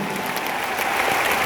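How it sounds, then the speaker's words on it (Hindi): Crowd applause at an Asclepius Wellness gathering for Shiv Kumar Guru Ji: a short, loud burst of many hands clapping together with a light crowd murmur underneath. "मैं चाहता हूं एक बार शिव कुमार गुरु जी के लिए जोरदार तालियां हो जाए।"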